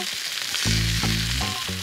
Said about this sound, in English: So as the chicken's frying